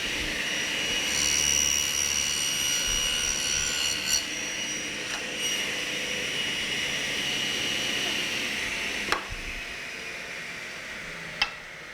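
A saw blade tilted to 45 degrees cuts a chamfer in wood for a window shutter: a steady, loud mechanical whine with high tonal ringing that holds throughout, punctuated by a couple of sharp clicks near the end.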